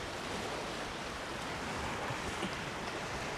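Waves wash onto a sandy, pebbly beach at Fortune Island in Nasugbu, Batangas, making a steady broadband roar with a light wind rush and no clear breaks or voices.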